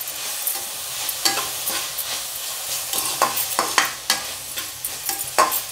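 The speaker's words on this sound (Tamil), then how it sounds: "ஒரு 5 நிமிஷம் வதக்கிட்டு" Dried red chillies sautéed in a pan, with repeated scraping stirs of a spoon over a soft sizzle, close and clear, in irregular strokes with no talking.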